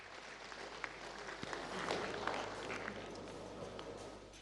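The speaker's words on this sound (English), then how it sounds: "he also deserves a round of applause" A crowd at a football association election event gives a round of applause, a moderate, diffuse clapping that swells slightly in the middle and sounds somewhat distant, with no clear speech over it.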